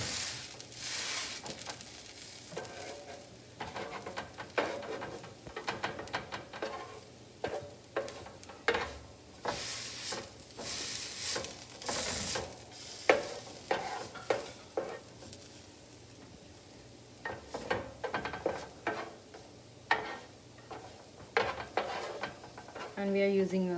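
Onion hash browns frying on a pancake griddle, giving a soft sizzle under uneven bursts of spatula scraping, tapping and utensil clatter that rise and fall in loudness.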